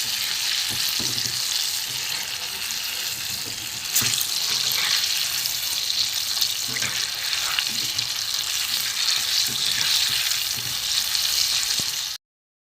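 Steady, bright sizzling of chicken popcorn pieces frying in hot oil, with occasional clinks of stirring and a slight rise in intensity midway; no voices.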